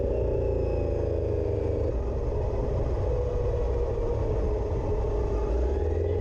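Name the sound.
Honda Africa Twin 1100 motorcycle accelerating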